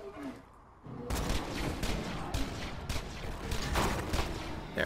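Rapid gunfire from a Borderlands 2 firefight, a dense run of shots after a brief quiet start, fairly loud and sustained with bursts continuing to the end.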